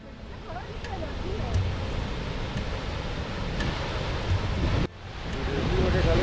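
Rushing water of the Keoti waterfall in Rewa, Madhya Pradesh, a broad steady roar with gusts of wind noise over it, continuous and fairly loud throughout.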